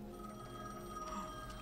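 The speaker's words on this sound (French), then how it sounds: "Le téléphone sonne." Telephone ringing in The Medium video game, a faint, steady electronic ring over quiet background, brief and alone.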